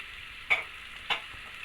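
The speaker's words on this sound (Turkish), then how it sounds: "kavurmaya devam ediyoruz" Steady sizzling of diced beef frying in a pan, with two brief louder crackles or stirring scrapes over the constant hiss.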